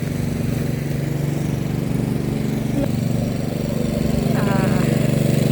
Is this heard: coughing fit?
no